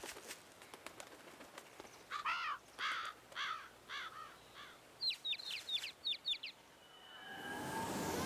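Mean crows caw in the video game Billy Hatcher and the Giant Egg, a run of harsh rasping calls followed by sharper, quicker squawks, alone over a quiet game backdrop that ends in a rising whoosh.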